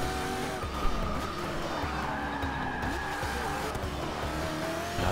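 Video game race car driving with tires skidding and squealing, a steady close engine drone under sustained screeching tire noise, no talk.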